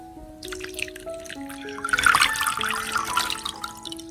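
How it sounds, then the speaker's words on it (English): A liquid solution of apple peel and garlic pulp is strained, trickling and dripping into a container, quiet at first and then a fuller splashing pour, with a steady musical tone running underneath. "I will strain out the residue to completely remove the apple peel and garlic pulp"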